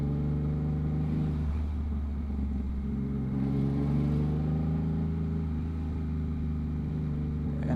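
A Yamaha MT-09 motorcycle rolls through slow commute traffic, its engine a steady loud low drone with mild swells in revs, heard from the rider's position with wind rush.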